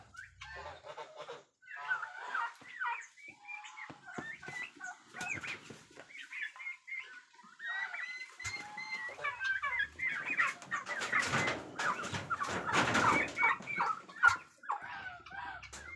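Thirteen two-month-old turkey poults let out into an outdoor ranging area, giving a busy, continuous run of clucking and chirping calls at moderate distance that grows denser and louder toward the end.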